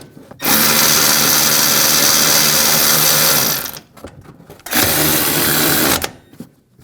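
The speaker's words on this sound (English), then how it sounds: "Taking a 15mm socket, we'll tighten the nuts down at the top." Front lower control arm nuts on a 2011-2018 Ram 1500 3.6L V6 being tightened with a 15mm socket, heard as two loud, close bursts of steady mechanical whirring separated by a short pause.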